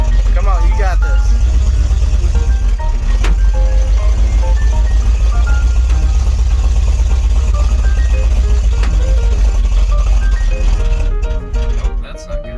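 A 1979 Dodge Power Wagon engine labors steadily under load in first gear, a loud continuous low rumble that holds throughout before easing near the end, with people talking over it.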